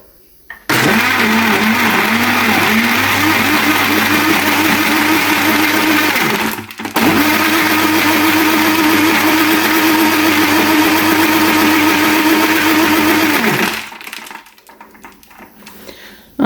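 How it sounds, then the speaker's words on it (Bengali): A blender whirs loudly while blending a banana milkshake with ice cubes, running steadily for about six seconds, pausing briefly, then running again for another seven seconds before stopping. "দিয়ে এটাকে ব্লেন্ডার করে নিব।"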